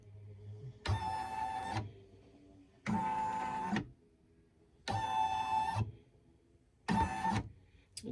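An embroidery machine traces the stitch area for a monogram on a towel, giving four separate bursts of motorized whirring, each about a second long, with short quiet gaps between them, close and clear with no voices.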